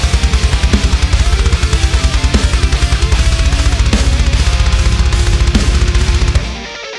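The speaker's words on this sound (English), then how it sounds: "make sure you get a polished drum sound like this" A polished studio drum recording that plays loud and steady, with a driving kick pulse and regular snare hits under a full mix, then stops abruptly near the end.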